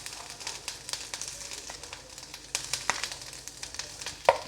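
Cashews, poppy seeds and grated coconut roast lightly in a pan, producing soft, uneven crackles and quick scraping stirs that are fairly faint and close.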